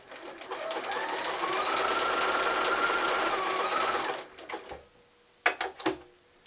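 A sewing machine runs a steady, continuous zig-zag stitch on a test piece with white bobbin thread for about four seconds, then stops, followed by a few sharp clicks and knocks of handling.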